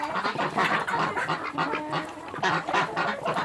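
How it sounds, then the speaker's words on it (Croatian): A crowd of ducks on a village farmyard quack loudly and continuously, many overlapping nasal calls piling on top of each other, close and busy, with no voices. "Nije guska, nego patke. Patke, dobro. Patkice."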